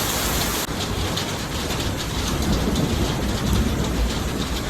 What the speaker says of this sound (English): You may hear thunder and a lot of rain going on throughout this video